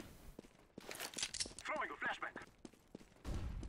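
Gunfire bursts in Counter-Strike: Global Offensive, a few sharp shots and short volleys over in-game noise and footsteps, with players talking throughout.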